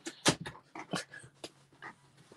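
A dog makes a string of short, rough vocal bursts, close and fairly loud, with whimpering and panting tones between them and no talking.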